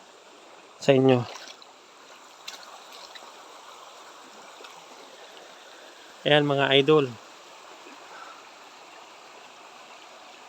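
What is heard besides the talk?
small stream of water flowing in the mountains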